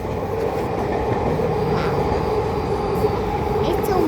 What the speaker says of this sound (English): I'll show the sky train.